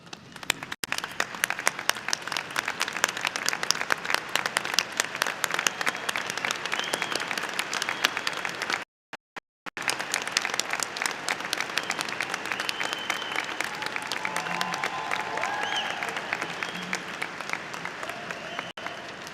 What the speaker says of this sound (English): Please join me in giving a standing ovation to Tom Kalentis